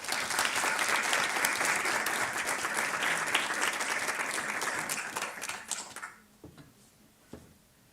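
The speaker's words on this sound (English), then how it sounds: "Luke Sinwell with a round of applause" An audience at a professorial inauguration lecture gives a sustained round of applause, a loud, dense patter of clapping hands that holds steady for about six seconds before thinning out and fading to a few scattered claps.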